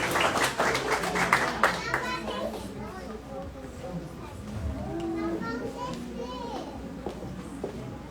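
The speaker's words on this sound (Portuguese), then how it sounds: "palmas para os nossos adolescentes da igreja, que não são tímidos" A church congregation claps for its teenagers in a brief burst of applause over the first couple of seconds, then children's chatter and voices fill the room as the clapping fades.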